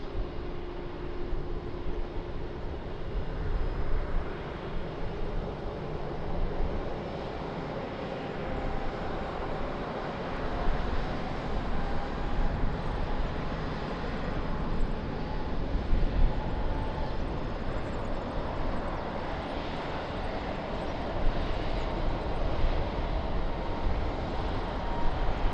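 An airliner taking off at Lisbon Airport, a broad continuous engine roar heard from a distance that swells and holds steady for the whole stretch, with no talking over it.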